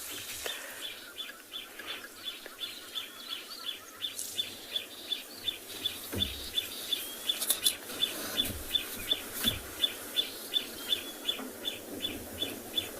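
Morning bird party in the African bush at sunrise, with a flycatcher, batis and crombec calling: a steady run of regular high chirps repeating every half second, plus scattered other calls, some clucking sounds, and faint background ambience, no talking.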